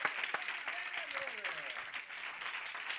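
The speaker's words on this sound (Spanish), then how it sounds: "Un aplauso al Señor" Congregation applauding inside a church during a baptism service, a steady wash of clapping that holds at moderate level throughout, with a voice briefly audible over it.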